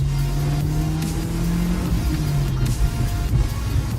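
An Audi TT accelerates with both windows open, its engine droning low and rising in pitch through the gears from inside the cabin, with road and wind noise mixing in throughout.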